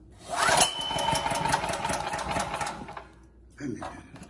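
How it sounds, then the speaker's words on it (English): A Champion generator engine is pull-started: a sharp rope yank sets it sputtering and running roughly for a few seconds before it cuts out, followed by another brief pull, close and loud. "Tighten up, turn on the gas, flip the choke, turn it on."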